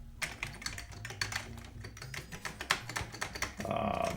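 Keys clatter on an Amiga 500 Plus keyboard in a dense, uneven run of close, crisp clicks and taps, with a steadier mechanical hum rising near the end.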